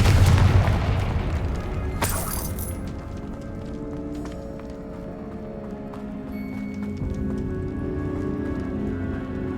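Confringo blasting spell cast in the video game Hogwarts Legacy, a loud booming explosion at the start followed by a crackling burst and a long rumbling, debris-like decay with scattered ringing tones.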